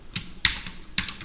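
Several quick clicks on a computer keyboard, with a few sharp keystrokes spread over about a second, close and fairly quiet.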